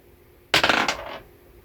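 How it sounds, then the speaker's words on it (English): Dice rolled for a tabletop campaign game clatter in one loud burst, a quick rattling tumble that lasts about half a second and dies away into quiet, with no one talking. "So I'm going to roll again to see which unit gets it."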